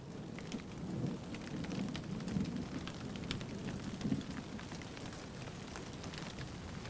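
Steady, dense rain pours down during a thunderstorm over a warthog den on the African savanna, a continuous hiss with a low rumble swelling underneath and no voices.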